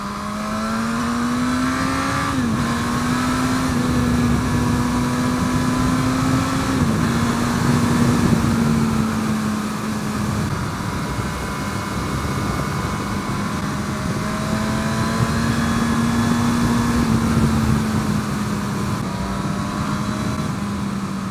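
A 2017 Suzuki GSX-S1000 motorcycle engine pulling away in fifth gear, a loud sustained drone rising slowly in pitch with slight steps, heard on its own without talk.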